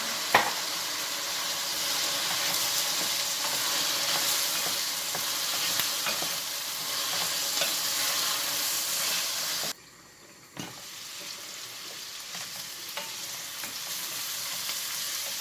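Chickpeas and zucchini sizzle steadily in a frying pan, a loud, dense crackle held close. About two thirds through it briefly drops out, then resumes slightly softer, with small stirring clinks.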